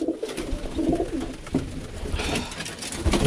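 A dilute cockbird Birmingham Roller pigeon coos in a loft, soft throaty low calls repeating over a noisy background of rustling and ambient hiss.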